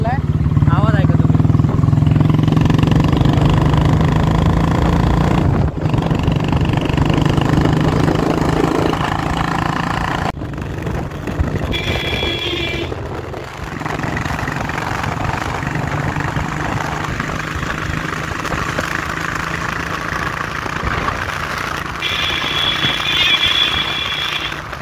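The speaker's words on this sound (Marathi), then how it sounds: "काय एवढ्या दिवसानंतर गाडीचा सायलेन्सर बदलला आहे. आवाज ऐका तुम्ही." A motorcycle with a newly replaced silencer runs steadily close by, its engine note loud and continuous, while people talk over it.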